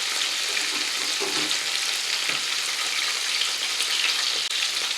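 Breaded country fried steak frying in hot oil in a skillet, a dense, constant sizzle close up with faint stirring or shifting sounds, even and unbroken, with no talking.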